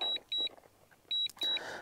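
Repeated high-pitched electronic beeps in short paired bursts from a DJI Air 2S drone returning to home, sounding twice over a faint background hum, fairly close, at the Snake River Canyon.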